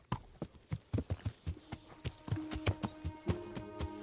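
Horse hooves clip-clop steadily in the video game Kingdom Come: Deliverance, a quick even rhythm of hoof strikes up close with soft musical tones underneath.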